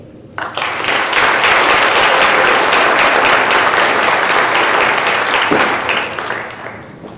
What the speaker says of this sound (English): Please join me in another round of applause for Amelia Hayden, the Section 10 State Vice President.